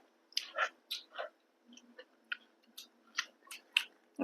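Someone eats som tam papaya salad up close in the evening: quiet, wet chewing in a dozen short bursts with brief pauses, and no talking.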